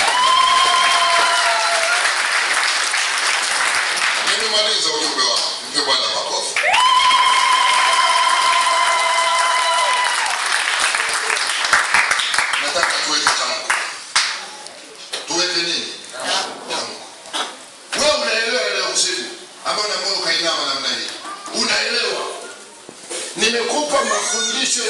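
Church congregation applauding during a sermon, a sustained burst of clapping that swells and fades in waves, mixed with a preacher's amplified voice and scattered laughter.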